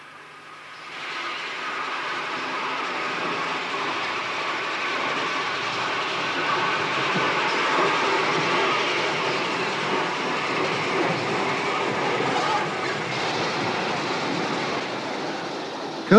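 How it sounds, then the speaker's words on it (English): A British Railways B1 steam locomotive in 1962 setting off from a standstill, a continuous rolling rumble of wheels and carriages building up and holding steady for several seconds, fairly loud and close, with no talk. "The B1, having been turned and serviced, sets off to collect the return working to Woodford Halt, followed by King George V"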